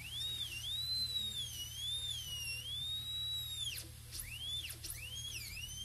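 A high-pitched dental drill whines steadily while cutting a tooth for a gold onlay preparation, its pitch wavering and dipping briefly as it cuts, with a faint low hum beneath.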